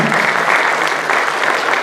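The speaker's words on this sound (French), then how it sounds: "on va l'applaudir, les applaudir" Conference audience gives dense, continuous applause, loud and even throughout a short burst of many hands clapping together.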